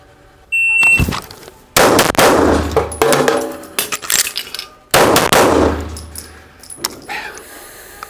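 Springfield Hellcat Pro Comp OSP pistol fired during a reload drill: several sharp, loud shots in quick bursts with a pause for the reload and clanks of handling between them.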